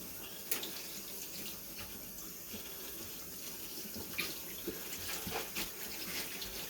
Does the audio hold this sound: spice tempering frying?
no